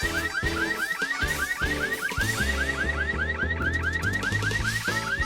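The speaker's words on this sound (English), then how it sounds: "the alarms are going off" Several car-style alarms blaring together inside houses, a loud, continuous cycling siren with rising repeated whoops over a dense, busy background, no talk.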